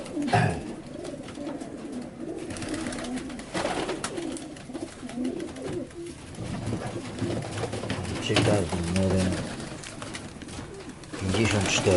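Pigeons coo softly and repeatedly in the background while someone speaking Polish talks over them nearby.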